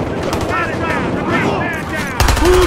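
Thompson M1A1 gunfire rattles in Battlefield Hardline during a Bankjob conquest match. Rapid bursts run under shouting voices, and a louder, closer burst comes near the end.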